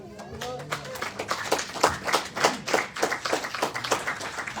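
A crowd claps steadily in an echoing church, a rhythmic applause that builds and continues with a voice briefly heard at the start.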